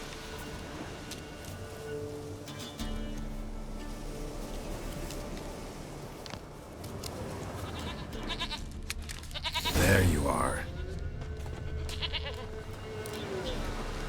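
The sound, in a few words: goat bleating in The Witcher 3: Wild Hunt video game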